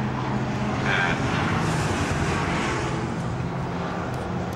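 Porsche race cars at Brands Hatch circuit during a championship race, a steady broadband engine roar that sweeps past without a break, fairly loud with wind-like noise layered over it.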